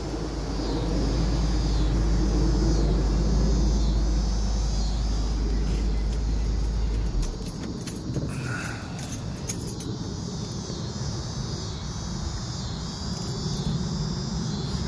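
A 1972 Lincoln Continental Mark IV engine idles with a steady low rumble outdoors, then shuts off about halfway through, leaving quiet outdoor ambience with crickets chirping and faint background noise.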